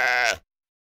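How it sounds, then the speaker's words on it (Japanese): A cartoon sheep from a children's animation gives one short, close, clear bleat lasting under half a second, followed by silence. "この動物はメーと鳴くよ。"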